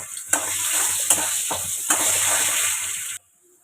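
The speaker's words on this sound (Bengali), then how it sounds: "একটু লবণ আর একটু হলুদ দিয়ে আলুগুলোকে ভালো করে একটু লাল লাল করে ভেজে নেব" Potato pieces with salt and turmeric sizzle loudly in hot oil, a bright close hiss punctuated by three or four scraping stirs, before the sound cuts off abruptly near the end.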